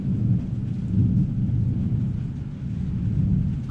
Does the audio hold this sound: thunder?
yes